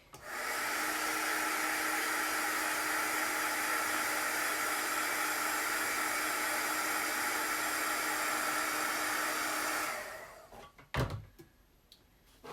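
A hand-held dryer blows steadily on chalk paste used for a Chalk Couture design, a loud constant whir for about ten seconds before cutting off, followed by a few handling knocks.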